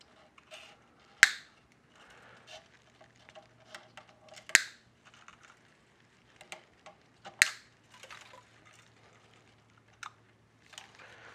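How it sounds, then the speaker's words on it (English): Wire cutters snipping Floyd Rose guitar strings: three sharp, crisp clicks spaced a few seconds apart, with softer handling taps between them in a quiet room. "I'll take the cutters and I'll cut the strings like right here."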